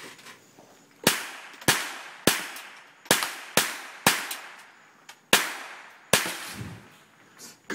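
A tactical .22 rifle firing tracer rounds at paint cans outdoors near a fire, about ten sharp cracks in quick irregular succession, each with a short echo.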